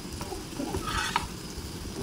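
Bitter gourd fry is stirred in a pan with a continuous moderate hiss and occasional scraping of a spatula over the cooking surface.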